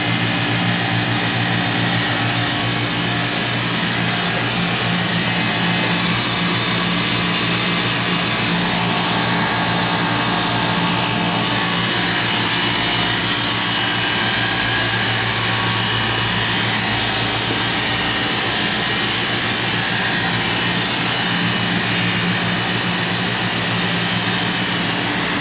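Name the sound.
Oxford Plasmalab 100 ICP system running plasma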